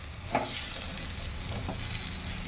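Chopped tomatoes hitting a pan of deep-fried reddish onions sizzle steadily with a broad hiss, a few soft stirring scrapes breaking through the constant frying noise.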